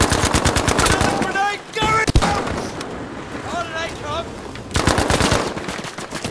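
Bursts of rapid automatic fire from an MP40 submachine gun in Battlefield V, loud and close at the start and again near the end, with a single sharp shot in between and game voices and effects under the quieter middle stretch.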